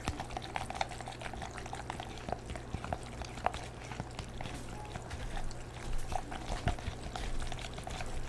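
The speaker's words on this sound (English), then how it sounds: "Let's stir this up for a moment here." Liquid being stirred in a container, a soft continuous bubbling swish with small clinks and splashes over a low steady hum, fairly quiet and alone without talk.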